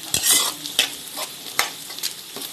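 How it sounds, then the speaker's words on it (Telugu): Drumstick curry being stirred gently in a sizzling pan, with soft scraping strokes and clinks over a continuous close frying hiss and no talking. "మెల్లగా కలుపుకోవాలి. లేదా పోతుంది, ములక్కాయలు నలిగిపోతాయి."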